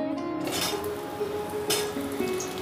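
Pieces of pumpkin and ridge gourd fry lightly in hot oil, giving a soft continuous sizzle with a few brief clinks of a utensil against the pan and no talk.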